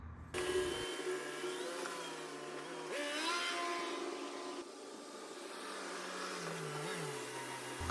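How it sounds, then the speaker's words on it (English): A 2019 Toyota Corolla on a test drive, its engine note rising and falling steadily through gear changes, heard from inside the car at moderate level with road noise underneath. "I'm gonna go ahead and take the car for a test drive, get the engine a little bit warmed up here"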